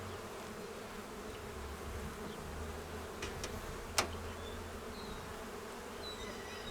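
Honeybees hum steadily around a beehive in early April, foraging on fresh spring pollen and nectar; a soft, even buzzing drone with a few brief clicks, fairly faint and with no talking.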